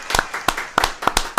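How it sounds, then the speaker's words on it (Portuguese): A few sharp hand claps for podcast guests, about six distinct close claps in quick, uneven rhythm, with no crowd behind them. "Palmas para eles, uma palma."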